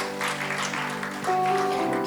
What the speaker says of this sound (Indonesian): Ayo beri tepuk tangan yang meriah kepada Tuhan.